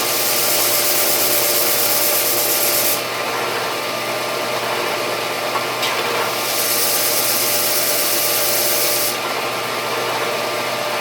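Power sander working wooden toy pick-up truck parts, smoothing out saw cuts: a steady, loud, close hiss and whir runs throughout, its pitch shifting slightly as pressure changes, with no voices.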